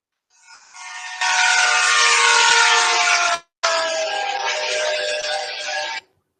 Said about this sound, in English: See, now we can understand that the train is approaching and train is leaving to us based on the sound.